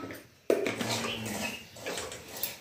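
Semolina (rava) is being roasted in a pan, with a sharp metallic clatter as a spoon strikes the pan followed by soft scraping and stirring, close and fairly quiet.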